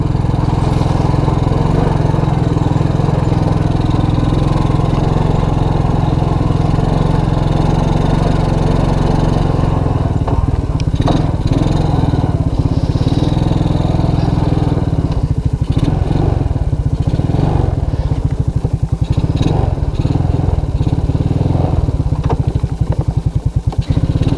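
A Suzuki King Quad 300 ATV engine runs loud and close throughout, a steady low chugging drone with clattering and rattling rising in the second half as the machine works.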